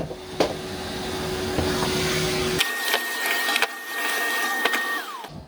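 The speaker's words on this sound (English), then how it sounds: "I think that's a quick hoover now." A vacuum cleaner hoovers near a sofa with a loud, droning whine that shifts pitch partway through, punctuated by sharp knocks and bumps as it moves over things.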